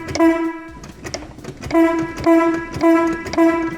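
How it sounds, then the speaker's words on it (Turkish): A ship's fog horn on display at a maritime museum sounds in several loud, steady blasts, each tonal wail cut off briefly before the next, with clattering mechanical noise between them. "Sis düdüğümüz de ötüyor."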